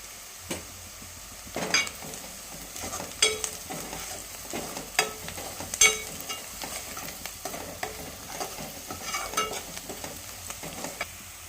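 Ginger garlic paste frying with turmeric and onions in a pan for mutton curry, with steady soft sizzling and intermittent stirring scrapes and clinks throughout.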